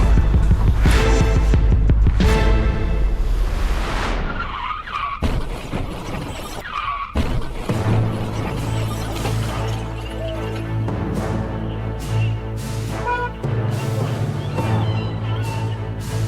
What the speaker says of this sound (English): These two cars collide after a small mistake.